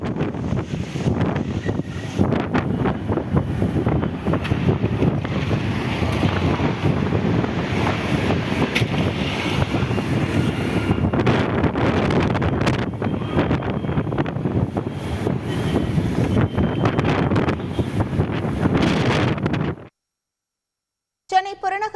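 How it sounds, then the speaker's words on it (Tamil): Strong gusty wind and heavy rain roar in Chennai during a sudden storm, a dense, loud, turbulent rush that persists for about twenty seconds before cutting off abruptly. "திடீரென சூறைக்காற்றுடன் கனமழை பெய்தது"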